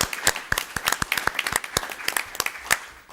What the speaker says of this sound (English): So I could like to give them a big round of applause.